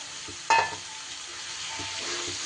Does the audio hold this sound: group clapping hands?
no